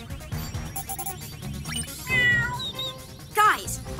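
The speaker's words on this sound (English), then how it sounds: "I'm picking up bird and cat sounds coming from the park." A cartoon cat meows several times in a park scene of a PJ Masks episode, with high, wavering cries over busy music and effects, and characters talking in between.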